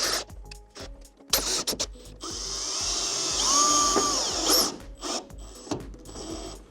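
A power screwdriver whirs in short bursts, then runs one longer rising whine as it drives screws into standing-seam metal roof panels, with clicks and handling knocks between runs.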